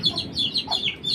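A mother hen with her chicks gives soft, rapid clucks, mixed with high chirps from the chicks, in one short close burst with no talking.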